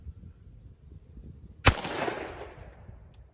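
A Glock 29 pistol fires a single 10mm hard cast round, one sharp, loud report with a short ringing decay, heard outdoors against low background rumble.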